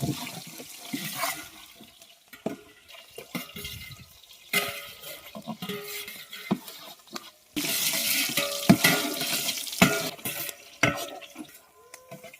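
Onions frying in a pan and stirred, with scraping strokes and sizzling in uneven bursts, close by, for a large cooked meal for about forty people; no voices.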